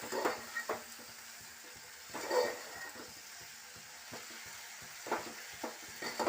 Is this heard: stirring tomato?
yes